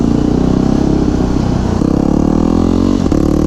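A 2009 Yamaha WR250X motorcycle engine pulling away close by, a loud, steady buzzing drone that rises in pitch as it accelerates, with a brief dip near the end.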